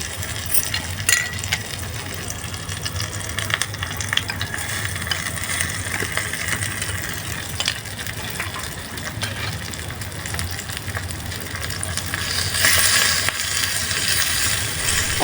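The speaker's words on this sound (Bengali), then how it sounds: "এখন আমি 4-5 মিনিট ধরে মাছগুলো ভেজে নামিয়ে নিব" Fish frying in hot oil in a miniature clay kitchen gives a steady, close crackle that runs the whole time, growing a little louder and busier near the end. No one speaks.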